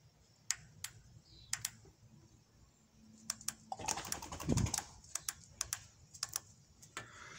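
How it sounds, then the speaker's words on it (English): Holley Sniper fuel injectors clicking sharply as they are tested, scattered single ticks with a brief burst of rapid clicks and rustling in the middle, close and fairly faint in a quiet room. "we're going to be listening for a click at the injector"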